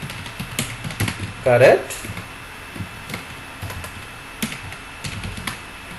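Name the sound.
typing on a computer keyboard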